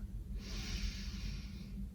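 A single slow inhale during a postpartum core exercise, a close, steady airy breath lasting over a second against a low background hum.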